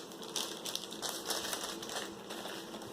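Plastic packaging crinkles and rustles steadily as a Sbode M400 Bluetooth speaker box is unpacked, a close, continuous soft crackle with no voices.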